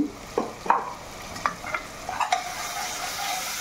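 Coconut paste and ginger-garlic paste stirred in a curry pan for aloo egg curry, with a handful of distinct spoon scrapes spaced irregularly over a soft background sizzle, close and fairly quiet, no voices.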